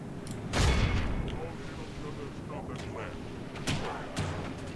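Dwarf ranged units fire on a treeman in the fantasy strategy game Call of Warhammer, a few sharp booming shots spaced out over a busy battle rumble with voices in the background.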